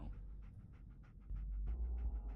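Dogmeat, the canine companion in Fallout 4, pants in steady quick breaths close by, with a low hum underneath.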